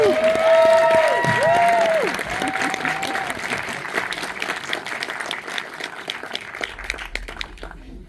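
Sustained audience applause at a Star Trek: Strange New Worlds season finale Q&A in a theater, loud and dense at first with a brief melodic tone over it, then easing into lighter scattered clapping.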